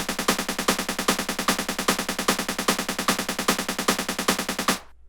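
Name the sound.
OP-Z synthesizer snare drum on every count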